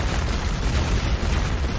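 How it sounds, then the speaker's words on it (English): A formidable cannon firing, a sustained broadband roar of blast and rumble that fills the whole moment, loud and close with no voices over it. "This cannon is truly formidable."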